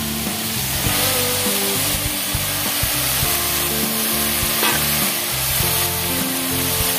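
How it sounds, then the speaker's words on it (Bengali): Fish fat tipped into a frying pan with potato and eggplant, a loud, steady hissing sizzle close by, with occasional knocks and scrapes from stirring. "এবার মাছের তেলটা পুরোটা দিয়ে দেবো"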